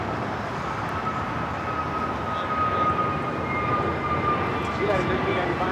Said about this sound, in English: This is American Airlines 764 taking off to Puerto Vallarta on the A321neo.